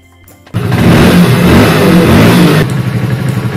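A Hero Splendor Plus BS6 motorcycle started by remote central locking: after a quiet half second the engine catches abruptly and runs loud and close, then settles into a steady lower idle chug.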